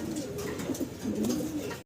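A pair of pigeons at a pigeon sale coo steadily and close by, with low, rolling calls overlapping through the whole moment and no talking.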